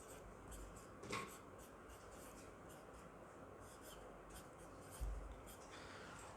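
An equation is written on a board, a faint, soft scratching of strokes with a couple of louder taps, quiet and distant against steady room hiss.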